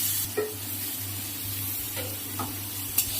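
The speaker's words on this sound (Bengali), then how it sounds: "এবার জিরে বাটাটা দিয়ে দিচ্ছি। একটু ভালোভাবে একটু কষিয়ে নিই।" Ground cumin paste sautéing in a pan, a soft steady sizzle under a low hum, with a few brief scrapes of a spatula stirring it, close and unbroken for a few seconds.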